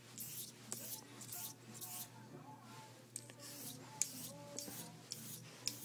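A straight razor is drawn in forward-only strokes across a Shobudani 702 whetstone, giving a quiet, even series of soft scraping swishes roughly every half second, close and faint with a low background hum.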